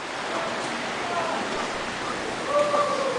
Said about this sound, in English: There's a waterfall, deep canyon.